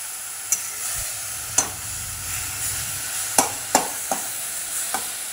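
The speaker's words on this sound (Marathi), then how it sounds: "अशी छान परतून घ्यायची" Leafy vegetable bhaji sautéing in a pan with garlic and chili, a steady soft sizzle broken by several sharp spoon scrapes and taps against the pan, close and alone.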